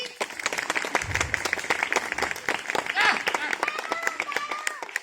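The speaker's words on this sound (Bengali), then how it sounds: "এই সবাই একটু হাততালি দিন দেখি" Crowd clapping at a school annual function, a lively burst of many hands at close range while people talk and call out over it.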